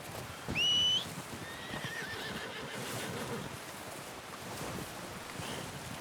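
A video game horse whinnies once, short and high, followed by soft hoof clops and low wind ambience.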